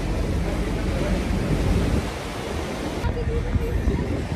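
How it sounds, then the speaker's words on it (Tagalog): Strong ocean waves surge and crash on a shore in the Cayman Islands, making a loud, continuous roar of surf with wind buffeting the microphone. "Sobrang lakas ng alon."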